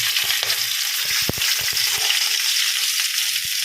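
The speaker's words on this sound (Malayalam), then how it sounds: "അതിലോട്ട് നമ്മൾ ചെറുതായിട്ട് അരിഞ്ഞു വെച്ചിരിക്കുന്ന ഈ തേങ്ങാക്കൊത്ത് ഇട്ട് കൊടുക്കാം." Chopped coconut pieces sizzle and crackle steadily in hot coconut oil, a dense close frying hiss with a few sharp pops, no talking.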